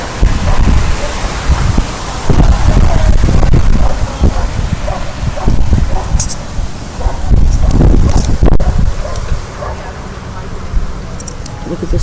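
Wind gusting outdoors among trees, loud buffeting rushes that rise and fall in waves and batter the microphone, with a voice speaking faintly beneath.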